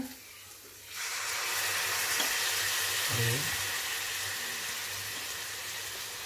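Tempering for Karnataka-style bassaru bursts into a loud sizzle as the ingredients hit hot oil, then a steady close spluttering hiss continues, broken by a brief utensil clink, with no voices.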